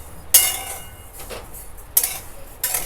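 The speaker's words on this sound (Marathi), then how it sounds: "आता मी थोडी आधी नुसतीच भाजून घेते आहे, जेणेकरून त्या बडीशेपेमध्ये जे एक प्रकारचं मॉइश्चर असतं आधीपासूनच ते पहिलं मी थोडं घालवून घेणार आहे।" Fennel seeds are dry-roasted in a hot pan, with a utensil clinking and scraping against the metal three times in crisp, bright strikes over quiet background.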